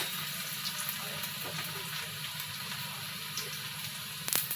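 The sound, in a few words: garlic and dried chili frying and stirred in oil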